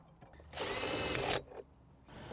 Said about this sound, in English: Let's remove it using our power tool.